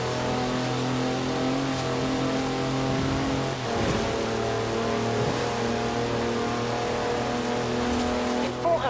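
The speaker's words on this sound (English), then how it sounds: "That's a 4-wheel drive car on mud tyres, completely sideways." Four-wheel-drive car on mud tyres drifting sideways in Forza Horizon 4, a steady engine drone with shifting revs and a brief dip, heard under a voice talking over it.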